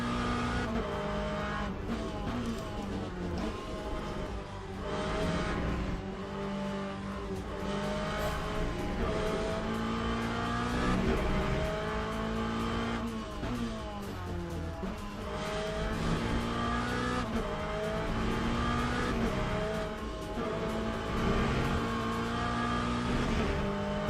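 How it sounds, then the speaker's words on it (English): A race car engine in the sim-racing game Rennsport drones and revs continuously at high pitch, shifting through gears, loud and steady throughout with no talking. "This car sounds like a refrigerator."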